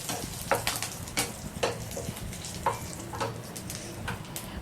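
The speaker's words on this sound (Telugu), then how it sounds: "ఆయిల్ వేడెక్కిన తర్వాత పోపు దినుసులు, ఎండుమిరపకాయలు, కరివేపాకు వేసి ఫ్రై చేసుకోవాలి." Tempering spices, dried red chillies and curry leaves fry in a spoonful of hot oil, giving a steady sizzle broken by sharp crackles and spattering pops, close and fairly quiet.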